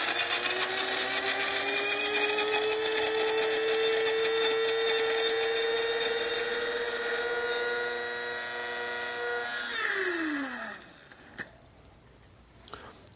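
A small electric grinder whirs at a steady high pitch while grinding chocolate into liquid for homemade sugar-free chocolate, then winds down and stops near the end, leaving quiet handling sounds.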